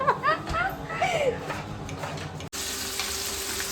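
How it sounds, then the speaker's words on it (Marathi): Tempering of bay leaf, onion, tomato, chilli, cumin and cloves sizzles in oil, a steady frying hiss under lively background voices and chatter, then a sudden cut to a brighter, more even sizzle. "फोडणी टाकली आहे त्यात तेजपत्ता कांदा आणि टोमॅटो मिरची शहाजिरं लवंग हे सगळं टाकलं आहे"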